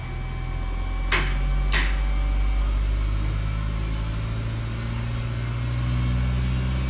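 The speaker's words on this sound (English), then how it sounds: "All right, it's idling up." A 2016 GMC Canyon's 2.8-liter Duramax diesel idles steadily with a low, even rumble, close and unbroken throughout, with two brief sharp clicks early on.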